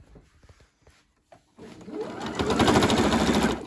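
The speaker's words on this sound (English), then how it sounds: "I've got yellow thread in my sewing machine so you can see where I'm sewing" A few light taps and handling noises, then a sewing machine whirs into a loud, steady run of rapid stitching, sewing bias tape onto a bandana dress nearby.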